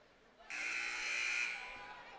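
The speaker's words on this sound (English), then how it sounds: "there's the buzzer. Timeout's about over." A timeout buzzer at a high school boys basketball game sounds once, a loud, harsh tone lasting about a second against faint gym background.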